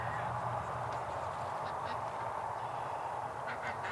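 Two wild male ducks at a waterfowl park give soft nasal quacks and honk-like calls over a dense, steady outdoor background, the calls scattered and moderately close; no one speaks.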